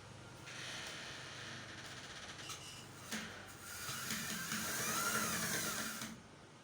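A sewing machine runs while stitching boning into a structured fabric sleeve, a close motor whir with rapid needle chatter that speeds up and grows louder toward the end.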